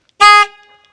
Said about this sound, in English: So when we honk our horn, we get,